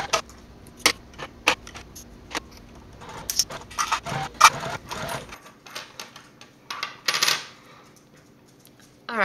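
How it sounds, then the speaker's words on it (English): A sewing machine top stitches along both edges of a fabric crossbody strap for a fold-and-go wallet, giving bursts of quick mechanical clatter with short pauses between runs, close and fairly loud. "I'm going to go ahead and top stitch at 1/8 inch seam allowance down the left and the right side of the strap."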